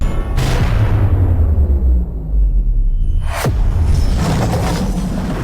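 A dramatic lightning strike and thunder explosion effect: a sharp crack opening into heavy rolling booms and rumble, then a second sudden crack followed by a long, loud, lingering roar.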